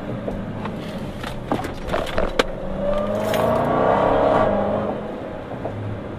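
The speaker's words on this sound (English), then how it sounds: "That supercharger whine is absolutely awesome." A Dodge Challenger Hellcat with a Borla exhaust driving on the road, a moderate engine drone with a rising supercharger whine swelling mid-clip, heard from inside the car.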